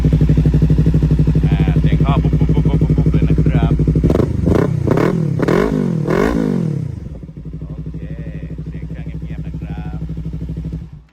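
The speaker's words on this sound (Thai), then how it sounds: "เสียงเครื่องเงียบๆนะครับผม" A Yamaha R3 motorcycle engine idles steadily, with a brief stretch of revving in the middle before settling back to a low, even idle.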